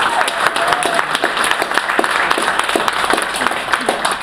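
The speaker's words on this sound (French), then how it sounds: "Donc on peut l'applaudir une fois de plus." Audience at a police ceremony for a divisional commissioner's epaulette presentation breaks into loud, close applause, many hands clapping in a dense, crackling burst that holds steady throughout.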